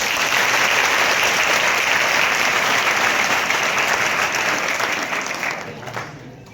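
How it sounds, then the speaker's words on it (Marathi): Audience applause fills a school auditorium during a one-man Marathi stage play about Mahatma Phule, a dense steady clapping that holds loud for several seconds and then thins and fades near the end. "इथं टाळी वाजली पाहिजे."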